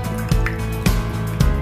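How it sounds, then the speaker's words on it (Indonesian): About 100 ml of UHT liquid milk poured into a mixture, heard as a close, gurgling liquid stream with three soft glugging pulses. "saya ini pakai susu cair, susu ultra. Nah, ini tambahkan ya kira-kira 100 ml."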